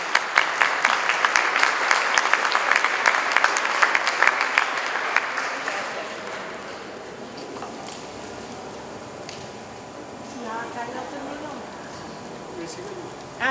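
An audience at a chocolate and cacao workshop breaks into lively clapping that peaks early and fades out over several seconds, leaving scattered voices and room chatter behind.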